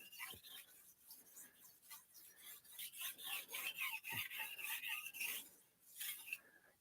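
A kitchen knife is drawn across a sharpening stone in repeated rasping strokes, a steady rhythmic scraping that swells and fades with each pass, close and fairly quiet.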